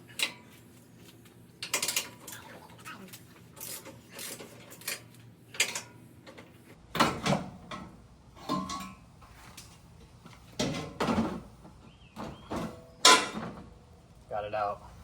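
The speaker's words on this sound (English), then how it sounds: "you have 3 14mm bolts in there that you need to take out, and you're gonna need an extension and a deep socket" Ratchet clicking on an extension with a deep socket while removing three 14mm bolts during a bumper and winch install on a Toyota Tacoma, with bursts of metallic clicks and clatter in short groups, and someone talking intermittently.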